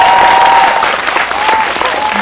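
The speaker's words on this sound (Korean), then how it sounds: "박수 부탁드릴게요" An audience applauds at a post-screening Q&A for the Korean film The Moon: steady, full-bodied clapping from a crowd that fills the whole stretch without a pause, with no one talking over it.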